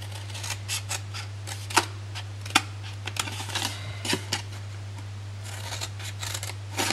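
Scissors snip through paper while a gift box is cut along its corners, a series of short crisp cuts at an irregular rhythm over a steady low hum, close and fairly quiet.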